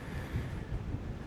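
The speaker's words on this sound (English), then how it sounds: "It's super windy up here." Strong gusting wind on a mountain top buffets the microphone, a steady low roar with swelling gusts and no voices.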